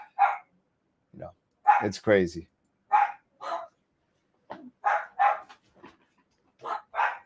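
Several dogs bark in bursts through a house, sharp repeated woofs spread across the clip, with someone talking briefly between them.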